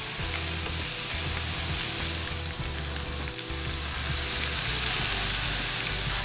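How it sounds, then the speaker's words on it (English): A steak sizzles loudly and continuously in a hot pan, a constant hiss with no talking. "I want this steak, when it hits the pan, to really sizzle."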